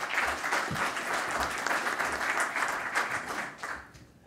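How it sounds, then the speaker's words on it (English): Audience applause at a Linux Foundation Europe project-update session as a presenter from the French power transmission operator takes the stage: dense, steady clapping from a crowd, holding for about four seconds before tapering off. "Please, an applause for Lucian."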